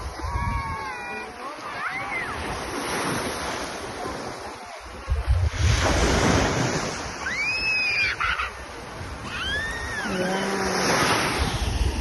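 Rough surf washes onto the beach at Bolinao Beach Resort in Pangasinan, a broad rolling rush with wind buffeting the microphone, while people chat over it.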